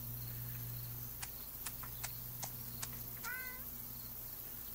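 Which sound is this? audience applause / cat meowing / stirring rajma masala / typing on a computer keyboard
cat meowing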